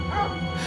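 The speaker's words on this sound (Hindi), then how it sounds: "जो कुत्ता इतनी देर से भौंक रहा था वो रूनी को ही देखकर भौंक रहा" A dog barks and whimpers in a short, close burst for a Hindi horror audio story, with narration running over it.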